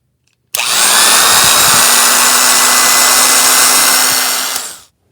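An old Craftsman electric drill starts abruptly and runs at a steady, loud, high whine for about four seconds, then spins down to silence.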